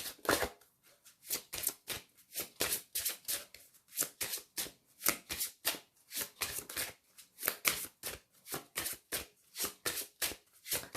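Lenormand tarot cards being shuffled by hand in a quiet room, a steady run of crisp, close riffling strokes repeating in an even rhythm with no talk over them.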